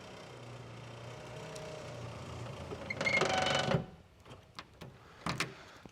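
A power window motor whirs briefly as it raises the tailgate glass on a 1987 Chevrolet Blazer, a steady mechanical hum of about a second rising over a quiet background, followed by a few light clicks and knocks.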